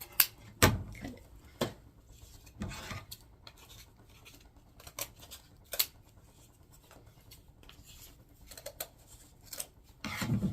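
Scissors snip through mesh ribbon for a wreath in scattered short cuts, several quick crisp snips separated by quiet rustling and handling, close and fairly soft.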